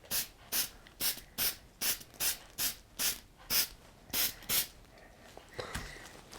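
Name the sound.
spray can spraying paint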